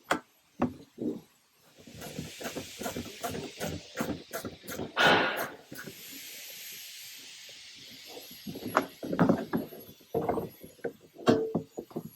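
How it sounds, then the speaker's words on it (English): A 7/16 ratchet tightens bolts into a plastic Sprinter seat back, with a run of quick close clicks followed by scattered rattles and knocks over a faint hiss. "this is a 7/16, so I'm just going to tighten these down now that I have all four installed"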